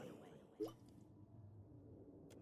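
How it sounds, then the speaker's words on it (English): A water bottle gives a single faint squishy drip-like plop in a quiet room, briefly rising above a soft background hush. "That was my water bottle."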